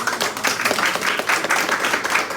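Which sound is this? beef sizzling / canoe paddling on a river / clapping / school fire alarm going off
clapping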